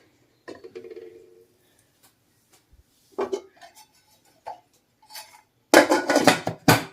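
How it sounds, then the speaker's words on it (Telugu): Metal lid going onto an idli steamer pot in a home kitchen: a few sharp clinks and clatters, then a louder burst of rattling metal near the end, close and alone without speech. "సో ఇలా మూత అయితే పెట్టేసుకోవాలి కిందకి రాకుండా."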